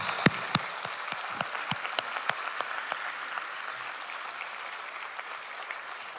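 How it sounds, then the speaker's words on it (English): A room full of people applauds at a closing ceremony, loud distinct claps at first that blend into a dense, steady wash of clapping before thinning slightly. "Please join me in giving everybody a round of applause for our thanks."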